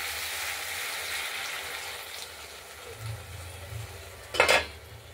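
Masala being stirred and fried in a pan, a soft steady sizzle with faint scraping, then a brief louder clatter of a utensil against the pan near the end.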